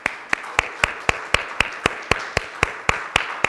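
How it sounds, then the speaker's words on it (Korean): A church congregation at a Sunday service gives a short burst of applause, with steady, evenly spaced claps ringing out at a moderate level and no talking. "우리 잘 돌아오셨다고 우리 한번 박수하시겠습니다."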